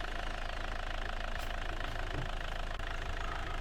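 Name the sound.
vehicle engine sound from a video game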